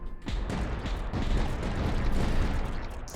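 Repeated mortar shots boom through a Tower Dominion battle, a dense, continuous barrage of low thuds and blasts that stays loud for the whole stretch.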